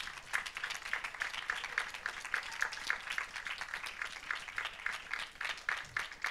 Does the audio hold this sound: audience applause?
yes